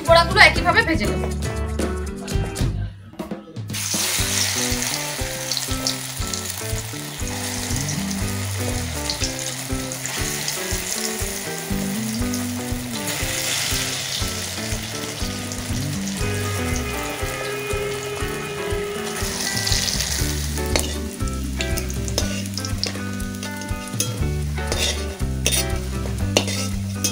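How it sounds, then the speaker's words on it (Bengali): Egg-added masoor dal fritters (bora) fry in oil in a village kitchen, with a steady sizzle and occasional stirring and utensil clinks under background music throughout. "বাকি বড়াগুলো একইভাবে ভেজে নেব।"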